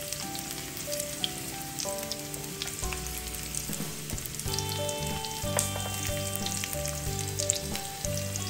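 Galunggong fish sizzles and crackles steadily in hot oil in a pan, a close, dense frying hiss throughout with music playing in the background.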